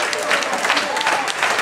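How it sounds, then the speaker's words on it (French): A concert audience at a live rock-and-roll show applauds loudly, a dense, continuous clatter of clapping with some crowd voices mixed in. "on applaudit très fort"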